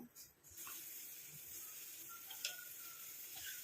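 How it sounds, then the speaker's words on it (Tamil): A quiet, steady hiss of a mixture boiling on a stove, with faint ticks and pops scattered through it. "இப்போ பாருங்கள் நல்லா கொதிக்க ஆரம்பிக்குது."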